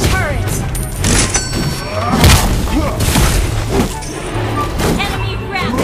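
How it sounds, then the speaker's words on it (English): Explosions and heavy thuds from a turret being destroyed in Mobile Legends: Bang Bang boom repeatedly amid busy battle effects, under an in-game announcer voice. "You destroyed a turret!"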